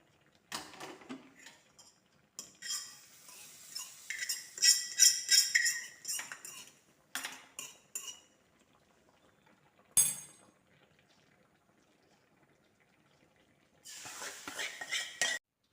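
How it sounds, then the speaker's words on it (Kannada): A spoon clinks and scrapes against a pan as a hot tempering of oil, mustard seeds and a pinch of asafoetida is stirred into a masala gasi gravy, in bursts of clattering with short quiet gaps. "ಒಗ್ಗರಣೆಯನ್ನು ಸೇರಿಸಿಕೊಳ್ತೇನೆ."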